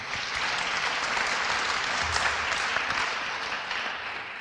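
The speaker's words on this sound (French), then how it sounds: "qu'on peut applaudir également." Audience applause at a French epilepsy awareness event in Nancy, a steady, dense clapping from a crowd that holds evenly for several seconds without talk.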